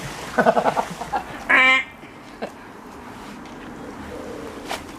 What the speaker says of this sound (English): see that goose over there?